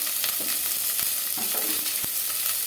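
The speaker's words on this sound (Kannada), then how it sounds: "ಈರುಳ್ಳಿ ಫ್ರೈ ಮಾಡಿ ನಂತರ ಹಾಗೆ ಸ್ವಲ್ಪ ಬೆಳ್ಳುಳ್ಳಿ ಚೆನ್ನಾಗಿ ಫ್ರೈ ಮಾಡ್ಕೋಬೇಕು" Onion and garlic frying in a pan for drumstick sambar: steady close sizzle with several sharp scraping stirs of a spatula, no talking.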